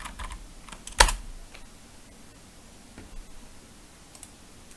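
Typing on a computer keyboard while coding in C#, with soft close key taps and one louder sharp click early on, alone and without speech.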